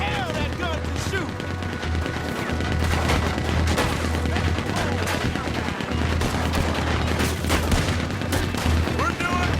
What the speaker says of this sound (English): He's going for the Gatling! Look out! He's firing! Hell, that gun can shoot!